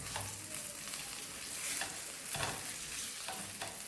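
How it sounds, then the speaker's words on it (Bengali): Eggplant slices frying in oil in a pan, turned over now and then, giving a dense, bright sizzle that swells and dips with the flipping, close and continuous with no talk. "আস্তে আস্তে এপিট ওপিট করে আমি ভেজে নিই।"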